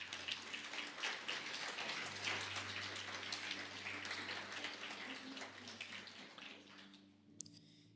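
A church congregation applauds after a sermon on the resurrection, a dense, steady patter of many hands that holds for several seconds before thinning out, with faint voices mixed in underneath.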